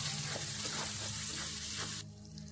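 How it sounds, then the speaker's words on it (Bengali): Chopped tomato and onion with salt and turmeric fry in a pan for a Bengali vegetable curry, a close, busy sizzle with faint stirring clicks that cuts off abruptly near the end. "তো বন্ধুরা টমেটো আর পেঁয়াজ কুচি ভালো করে ভাজা হয়ে গেছে"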